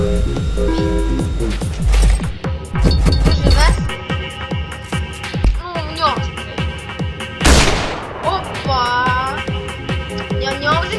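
Rapid gunfire in a Roblox horror game rattles in bursts amid electronic effects and a loud sweeping blast, with a voice talking over the action.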